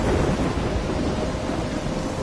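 A heavy storm at sea near a lighthouse, with a dense roar of rain and wind and deep rumbling thunder, loud and steady throughout.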